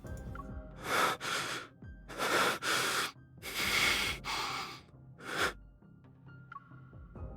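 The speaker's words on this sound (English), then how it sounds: "Zayne's labored breathing shows how intense the pain is" Zayne, a wounded video game character, breathes in labored, pained gasps: several loud ragged inhales and exhales in uneven bursts, close up, with quiet gaps and no talking.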